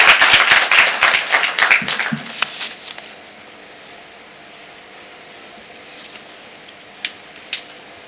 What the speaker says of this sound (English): Shall we please clap for him?